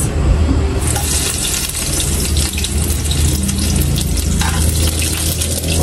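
Onions frying in a pan, a loud close sizzle with crackling and stirring that runs continuously for several seconds, with no talking.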